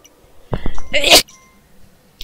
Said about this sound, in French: Je vais éternuer à tout moment.